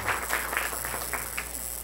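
Brief applause from a small group, scattered claps fading quickly over a steady background hiss.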